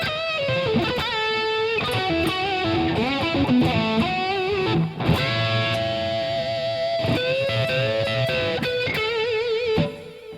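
Electric guitar played through distortion from TH3 amp-simulation software: sustained, saturated notes and chords with bends and vibrato, interrupted by short choppy bursts, loud and continuous.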